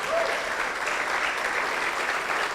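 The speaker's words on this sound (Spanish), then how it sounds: "Y si le damos un aplauso a Jesús porque Él está aquí." Church congregation applauding during a service, a thick continuous wash of many hands clapping at a steady, fairly loud level with no speech over it.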